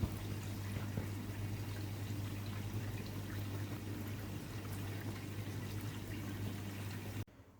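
A Guinness being poured, a steady close liquid pour and fill running continuously for several seconds before cutting off, alone with no talk.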